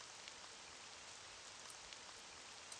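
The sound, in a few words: rain in the video game Gods of Ashes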